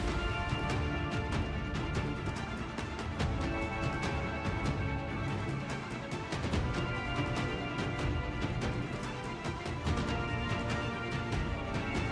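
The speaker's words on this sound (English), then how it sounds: "shattering shrapnel and glittering glass" Glass smashing and shattering from Gara's powers in the video game Warframe, a dense, continuous barrage of crashing, glittering impacts layered over loud game effects for about twelve seconds.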